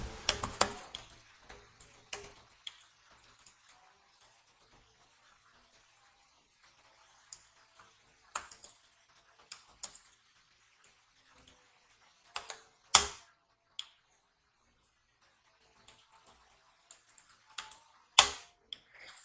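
Computer keyboard typing at close range, scattered bursts of clicky keystrokes separated by quiet gaps, with a few louder isolated key taps standing out.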